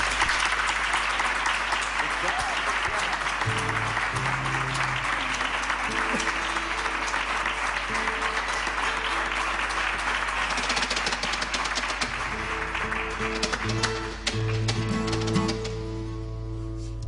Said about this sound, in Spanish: y un aplauso para Victoria.